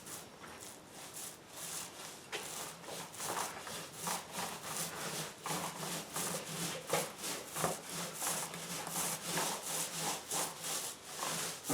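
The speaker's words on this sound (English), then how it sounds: "you kind of gotta give the roller an extra push down sometimes, just to squeeze out a bead of paint" A paint roller pressed hard onto plywood on a chicken coop makes a rhythmic rubbing, swishing sound in repeated strokes, fairly faint and close, with no voices.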